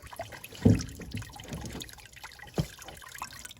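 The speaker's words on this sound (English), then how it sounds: "I'm gonna go ahead and let that drain a little bit more" Old fuel drains from a 1973 Porsche 911 in a soft, low trickle, with a couple of sharper splashes or knocks breaking through the quiet liquid sound.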